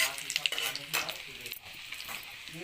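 Garlic frying in a pan for masala khichuri, a steady close sizzle with stirring scrapes and a few brighter crackles over about three seconds.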